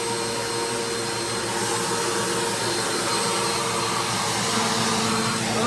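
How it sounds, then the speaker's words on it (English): Steady, loud roar of a vacuum cleaner sucking up loose potting dirt while seedlings are transplanted, running continuously and close without pause or talk. "I just vacuum up the dirt, extra dirt"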